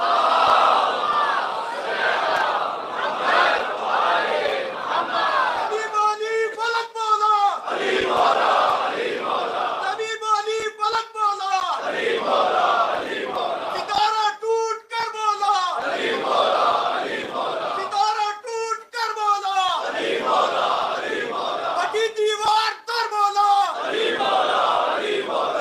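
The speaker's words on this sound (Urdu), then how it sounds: "اور بلند صلوات پڑھ لیں." A large gathering at a majlis loudly recites salawat in unison, the chant rising in repeated swells, several times over, over a constant rumble of crowd noise.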